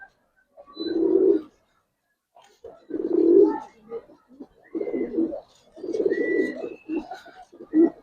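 Silver Giribaz pigeons coo in several low, rounded bursts close by, separated by short pauses, with faint background noise and a few higher chirps between phrases.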